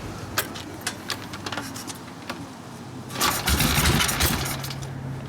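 A 1972 Harley-Davidson XL Sportster Ironhead motorcycle engine, freshly rebuilt, popping at a slow uneven idle, then revved up into a louder, rougher roar that settles back down, close and unaccompanied by talk.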